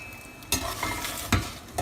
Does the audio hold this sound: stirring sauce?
yes